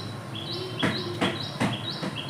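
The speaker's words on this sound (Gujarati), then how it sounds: "મસ્ત મજાના ચકલા કાગડા કબૂતર બોલે છે." Sparrows, crows and pigeons call outdoors around a home at midday, a steady repeating chirp with regular brief louder bursts over a constant hum, no voices.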